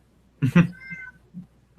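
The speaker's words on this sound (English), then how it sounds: "Now I can hear the cat." A cat meows twice in quick succession at close range, the second call longer and drawn out, followed by a fainter short mew in an otherwise quiet room.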